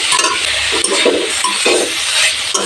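Chopped fenugreek leaves (methi) stirred in a pan over low heat for Punjabi aloo methi, with loud close scraping strokes over a constant gentle sizzle.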